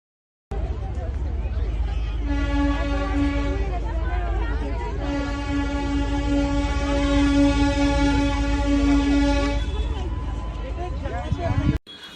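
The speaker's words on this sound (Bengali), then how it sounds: "পার্কটাতে এসে গেছি, কয়লার ট্রেনটা আসছে, তোমাদেরকে দেখাবো, দেখো। এটাই দার্জিলিংয়ের টয় ট্রেন।" Darjeeling coal-powered toy train approaching in a park, its steady horn blast sounding for several seconds, rising and then cutting off, with engine rumble and crowd babble around it.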